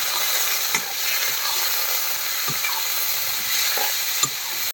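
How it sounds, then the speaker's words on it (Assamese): Pork frying in oil with onions, a steady loud sizzle with a few scattered clicks and scrapes of stirring throughout, no voices. "মাংস দিলোঁ, এতিয়া মাংসটো ভাজি লওঁ আগতে।"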